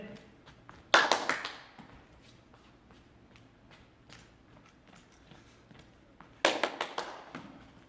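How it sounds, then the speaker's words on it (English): A few hand claps during a children's PE hand-eye coordination ball-throwing exercise: one short burst of claps near the start and another near the end, with quiet taps and shuffling footwork in between, fairly faint. "See if you can add a clap in."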